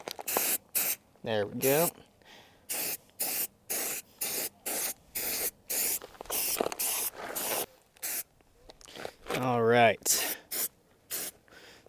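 Bursts of spray paint hiss across a rifle as green paint is applied over a laid-out mesh, repeated short blasts with brief pauses, close and loud, with someone speaking in between.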